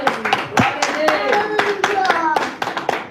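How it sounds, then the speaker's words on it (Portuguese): Congregation clapping in church during a sermon in Petrópolis, Rio de Janeiro: uneven rhythmic hand claps, close and fairly loud, with voices calling out over them. "Vamos fazer as palmas mais além para o Senhor."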